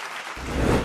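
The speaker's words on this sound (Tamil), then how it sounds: "ஒரு உற்சாகமான கைத்தட்டு கொடுங்க" Applause from an audience at a Tamil stage event: a dense wash of many hands clapping that begins abruptly partway through and swells louder toward the end, with no talk over it.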